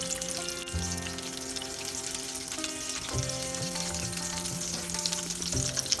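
Hara bhara kababs fry in hot oil with a loud, continuous crackling sizzle that stays steady throughout, close to the pan, with no talking.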